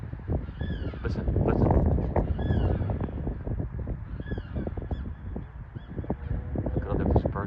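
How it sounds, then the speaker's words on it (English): Honking calls from a crowd of birds, likely geese, in a Walmart parking area, repeating in short bursts over steady background noise and scattered voices. "Look, oh, there's birds everywhere too."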